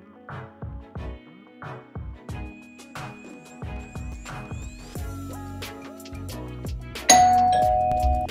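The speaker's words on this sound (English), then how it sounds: "I think that was the doorbell" An apartment doorbell in the Roblox game Bloxburg plays a repeated chiming ding-dong melody over light game sounds, finishing with a louder sustained tone near the end.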